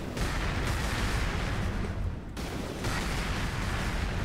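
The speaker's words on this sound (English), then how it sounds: "Cluster grenades, sure, cluster grenades are nice." Cluster grenades going off in the game Cryptark, a dense run of rapid overlapping blasts and crackling sub-munition pops that roar on continuously with a brief dip midway.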